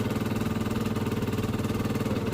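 A Gilera DNA scooter idles close by following a fuel pump fix, its engine holding a steady, slightly uneven putter with faint vibration and clatter, running alone without voices.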